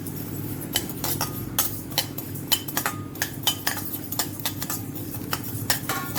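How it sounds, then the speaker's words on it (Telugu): Gooseberries fry in oil in a pan for a pickle, heard as a low steady sizzle beneath frequent close metallic clinks and scrapes of a utensil stirring against the pan, irregular and fairly loud. "ఇది కూల్ అయ్యే లోపల మనం ఉసిరికాయని నూనెలో వేయించుకుందామండి."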